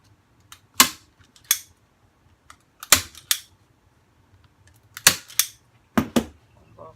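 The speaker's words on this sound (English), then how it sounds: "So the opposite side, I'm going to staple across there." A staple gun drives staples through canvas into a wooden frame, sharp snapping clacks heard about eight times at irregular intervals, close and loud against near silence.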